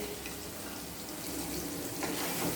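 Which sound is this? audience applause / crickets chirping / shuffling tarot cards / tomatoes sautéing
tomatoes sautéing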